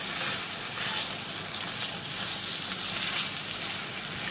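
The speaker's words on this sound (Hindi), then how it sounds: "अच्छी तरह से खूब भूनेंगे ताकि लोबिया के अंदर भी जो मसाला है, नमक, मिर्च, वो सब मिक्स हो जाए" Boiled black-eyed beans frying with beef mince masala, salt and chili, giving an even, hissing sizzle that holds steady at a moderate level throughout, with no voices.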